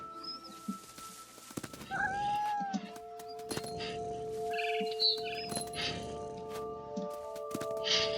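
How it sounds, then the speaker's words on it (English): An angry cat in a video game yowls and meows over a steady bed of game ambience and music, the cries rising and falling in several drawn-out calls. "That's a mad cat."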